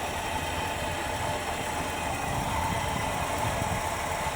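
A 1966 Ford Fairlane GTA with a rebuilt 390 V8, new carburetor and dual exhaust idles steadily with a low, even rumble that stays constant throughout.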